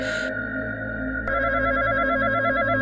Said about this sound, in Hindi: घंटी की आवाज फोन से नहीं, शमशान के अंदर से आ रही है।